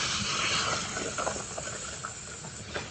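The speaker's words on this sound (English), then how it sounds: "Sprinkle a little flour, makes a nice little sizzle." Battered chicken-fried steak hisses and sizzles in hot frying oil, a dense steady crackle that stays loud throughout with small spitting pops.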